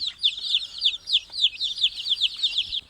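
Rapid, repeated high-pitched chirping calls from several yellow, white-tailed native Thai chickens, coming in quick overlapping bursts, close and fairly loud.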